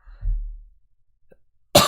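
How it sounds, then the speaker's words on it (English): A single low, throaty cough from a podcast host comes up close to the microphone, followed by a short pause and then a sudden burst of noise at the end. "I don't be coughing in y'all's ears."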